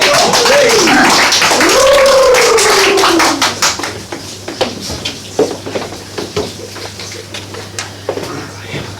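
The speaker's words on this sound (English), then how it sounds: "a huge round of applause for Colin Clark" An audience at a poetry event claps for a performer, the clapping thinning into scattered individual claps that trail off, while a voice talks loudly over the opening few seconds.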